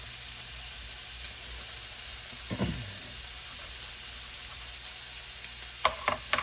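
Steady broadband sizzle of jalapeno poppers frying in a pan indoors, with a few brief clinks and scrapes partway through and near the end.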